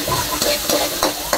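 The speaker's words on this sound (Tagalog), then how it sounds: "Lagyan natin yung ating bawang." Garlic added to a hot pan while cooking native chicken with sotanghon and patola, giving a loud, steady sizzle and frying hiss with a few stirring scrapes, no voices.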